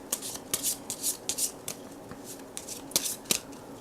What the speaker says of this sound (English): shuffle time.